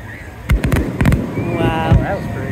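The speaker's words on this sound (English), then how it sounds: "That's some fireworks." Several sharp firework bangs and crackles pop in quick succession at Siesta Key Beach, Florida, with people talking and reacting excitedly throughout.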